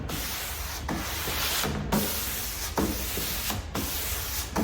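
Hand sanding of an oak table with 320 grit sandpaper gives steady, close rasping strokes in a back-and-forth rhythm, each stroke broken by short pauses.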